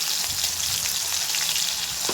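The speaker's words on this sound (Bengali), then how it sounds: "এবারে ভেজে নিয়ে ওগুলো তুলে রাখবো বেশিক্ষণ ভাজবো না" Prawns frying in oil over a medium flame for a sesame prawn dish, giving a steady, loud, dense sizzle with no pauses.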